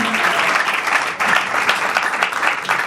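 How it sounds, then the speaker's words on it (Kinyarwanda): Guests at Eric and Jolie's wedding break into sustained, close applause, a thick clatter of many hands clapping for about three seconds. "Amashyi menshi cyane."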